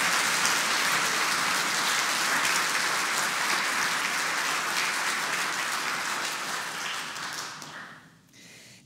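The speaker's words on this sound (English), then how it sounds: "as we welcome you and as we give you a round of applause" A church congregation applauding to welcome newly confirmed members: dense, steady clapping that holds for several seconds, then thins and fades out near the end.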